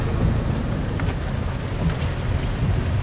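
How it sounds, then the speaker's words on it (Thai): Heavy rain pours steadily during a road trip into Luang Prabang, Laos, a dense continuous roar with low rumble, likely drumming on a vehicle, loud and unbroken throughout. "ฝนมาต้อนรับ ตกแห้งเติบเนาะ"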